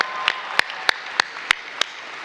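An audience at a real estate agent seminar claps in a steady, evenly spaced rhythm of about six sharp claps over a low room hum, with no talking.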